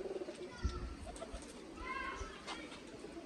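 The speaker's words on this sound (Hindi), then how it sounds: "ये जीरा कबूतर है, ब्रीडर कबूतर है, बच्चे पाल रहा है ये।" A breeder pigeon coos softly in a loft, low rounded calls repeating a few times at close range amid faint background noise and other birds.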